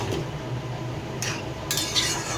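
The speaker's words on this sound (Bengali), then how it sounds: "মশলা দিয়ে মিশিয়ে রাখা মাংসটাকে এবার একটু নেড়ে চেড়ে ভালো কষিয়ে নিই" Spiced mutton being stirred in a pan, with soft scraping and clinks of a spoon against metal and faint background sizzle; two brighter scraping bursts come near the end, close and quiet, with no talk.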